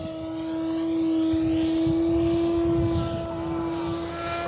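A Horizon Hobby Timber X RC airplane flies stunts overhead, its electric motor a steady high whine that swells and fades slightly as the plane passes, with faint wind noise beneath.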